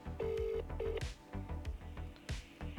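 Two short telephone keypad dialing tones ring out as a call is placed, heard over a steady rhythmic musical beat.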